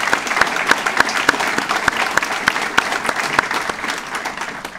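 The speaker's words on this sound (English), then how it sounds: "We should give them a round of applause." Steady, fairly loud applause from an audience at a community heroes awards event, sustained clapping with sharp individual claps standing out throughout.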